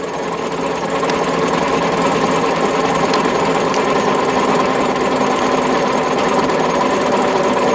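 A large hay tedder working grass in a field for hay, giving a loud, steady mechanical clatter and engine drone that runs unbroken throughout without any voices.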